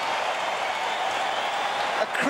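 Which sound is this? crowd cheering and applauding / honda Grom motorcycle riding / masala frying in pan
crowd cheering and applauding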